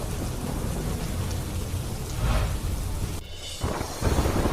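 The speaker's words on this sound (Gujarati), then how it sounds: "પાલનપુરમાં ભારે વરસાદ" Heavy rain pours steadily in Palanpur, a dense hiss of downpour with low thunder rumbling through it, the storm noise constant and close with brief swells.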